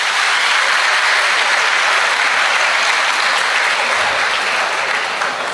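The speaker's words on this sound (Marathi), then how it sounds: "सगळ्यांनी एकदा जोरदार टाळ्या वाजवा त्यांच्यासाठी." Loud, dense applause from a large crowd at a birthday felicitation ceremony, steady and continuous throughout with no pauses.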